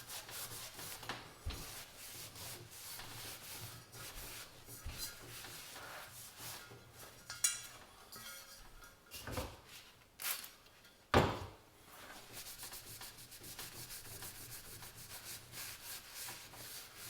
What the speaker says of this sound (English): all I want to do is clean off as much of the loose grime as I can